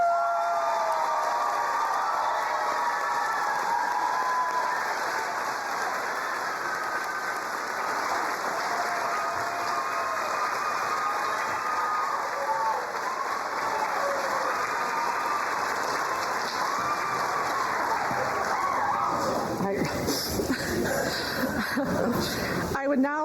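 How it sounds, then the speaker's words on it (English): An audience claps steadily through a nursing pinning ceremony, with broad, sustained applause that carries for about twenty seconds. Near the end some cheering and clattering noise comes in. "Now, how about a round of applause?"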